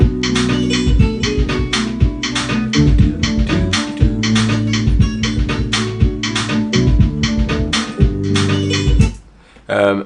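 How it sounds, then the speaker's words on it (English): A full song mix with an added guitar-played bass part and a dense, loud beat running continuously, then a brief drop near the end before it resumes. "I've added some bass, it sounds like this."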